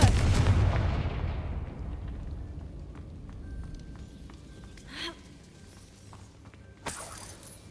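A Confringo blasting spell going off in Hogwarts Legacy, a loud close explosive boom that rumbles and decays over a couple of seconds, followed by scattered crackles and a sharp pop near the end.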